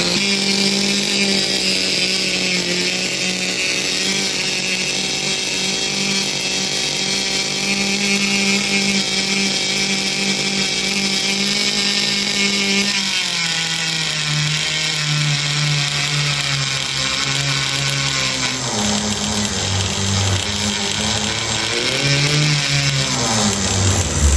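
A 30-year-old HPI RS4 nitro RC car engine with a can muffler idles a little high. The buzzing drone is loud and continuous, its pitch shifting down partway through and wavering near the end.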